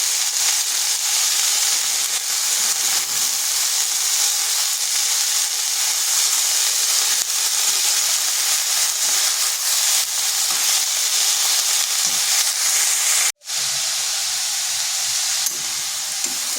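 Shredded cabbage frying in a pan over high heat for a cabbage and bori dish, giving a steady, loud hiss and sizzle throughout with one brief dropout near the end.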